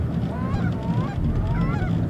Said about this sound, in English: the geese finishing on the other side of the decoys